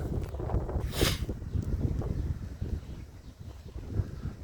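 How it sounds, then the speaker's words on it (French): Wind rising over a vegetable garden, a low rumbling gust buffeting the microphone with a brief rustling swell, continuous and close. "Je sais pas si vous l'entendez, mais le vent se lève."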